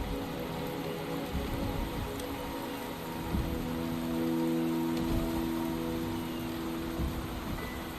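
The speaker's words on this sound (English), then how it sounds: "The rain is subsiding, and the sky will soon clear." Rain falls steadily in the video game Wuthering Waves, a soft, even hiss of drops on surfaces with a few faint thumps, with no talking over it.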